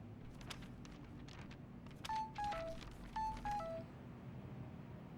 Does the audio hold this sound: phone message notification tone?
yes